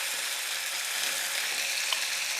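Sausages sizzle steadily in a frying pan, a dense, even crackle of hot fat that holds at a constant level from start to finish, with no talking over it.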